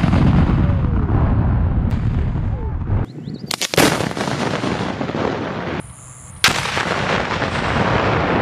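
A military explosion set off by a combat team during training, a loud close blast followed by rumbling debris and a second sharp burst, all over constant heavy wind or engine noise.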